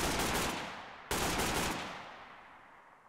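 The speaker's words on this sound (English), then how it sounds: "switch to my AK, because that's a little bit... I apologize for the loudness. So infinite ammo has been achieved." AK rifle gunfire with infinite ammo in a video game, a loud continuous burst of rapid automatic shots broken by one brief gap before the firing resumes and trails away.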